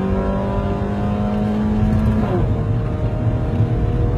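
A car engine with an AZC aftermarket exhaust and Datatec tuning revs, a sustained rumbling tone that rises, then drops and settles into an idle, fairly close with no talking.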